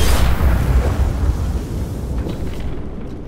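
Bomb explosion in The Walking Dead: The Final Season game, a loud, close blast with a heavy low rumble that rolls and fades over a few seconds, with no voices.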